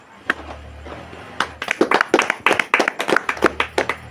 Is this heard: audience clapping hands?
yes